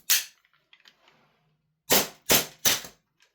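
Three loud, sharp reports from an EMG T8 Army Colt Defender gas blowback airsoft pistol, evenly spaced and close up after one earlier shot, with faint handling clicks in between.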